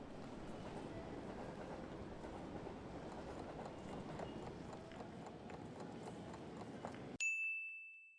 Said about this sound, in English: You are on a platform at a train station where you're waiting for your train.